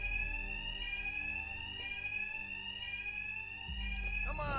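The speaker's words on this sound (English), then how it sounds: "Two-Face's thugs won't hear me over the alarm" An alarm blares continuously inside a Batman: Arkham Knight game level guarded by Two-Face's thugs, a loud, steady, piercing electronic tone that fills the whole stretch.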